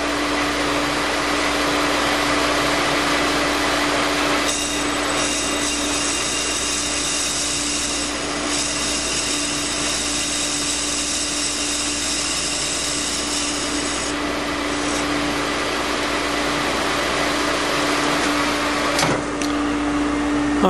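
A Fiat 600 flywheel is cut on a machine, giving a steady, continuous grinding and whirring with a sustained tonal hum, unbroken and fairly loud for the full duration, with no talking.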